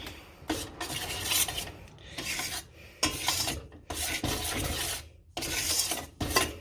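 Edible slime mixture being stirred in a pot over low heat, giving repeated scraping, rasping strokes at close range in uneven bursts with short pauses between.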